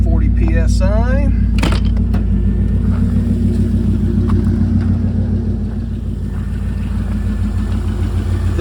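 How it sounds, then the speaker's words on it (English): A 2000 Chevrolet Corvette C5 with its 345 horsepower LS1 engine idles nearby in a steady, loud, low rumble, with a brief burst of voice near the start. "Engine starts right up."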